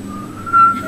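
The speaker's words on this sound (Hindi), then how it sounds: "सीटी की आवाज कहीं और से आ रही भाई, आवाज तो आ रही है।" A thin, steady whistling tone holds for about a second, swelling briefly louder midway over a low background hum.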